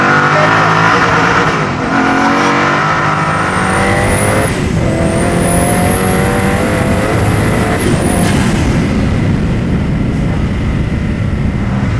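A Koenigsegg Agera R supercar engine roars loud and close, pitch climbing through gears in repeated surges, then holding a high, sustained scream with continuous mechanical rumble underneath.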